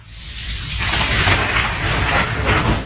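Heavy night rain pours down during a thunderstorm, a dense loud roar that swells in the first second and holds steady with deep rumbling underneath.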